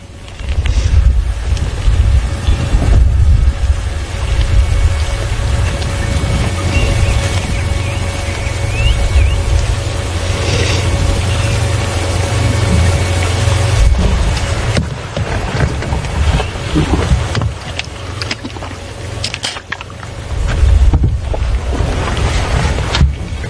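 Wind blowing outdoors on an overcast, chilly morning: a loud, steady rumbling roar that buffets the microphone continuously, with gusty dips and surges and no talking.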